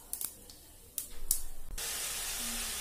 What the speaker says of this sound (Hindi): घी लिए थे वो गरम कर लिए हैं। अब मैं इसमें जीरे डालूंगी